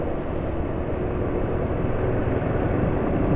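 Motorcycle engine running after an oil change to Win Power 10W40 oil, a steady, dense, close-up drone that holds evenly throughout with no voices.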